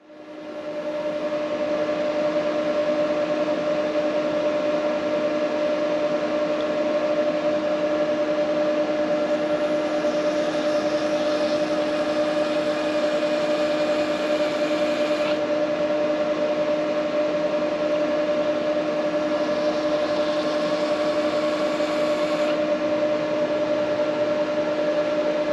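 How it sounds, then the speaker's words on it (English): A YesWelder MP200 Pro in cleaning mode removes heat color from a stainless steel TIG weld, producing a steady electrical hum with a constant hiss, close and even throughout with slight shifts in tone. "we're gonna switch it over to cleaning and clean that color off the TIG weld"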